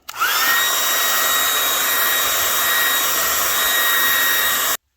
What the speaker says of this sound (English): So, got the hair dryer.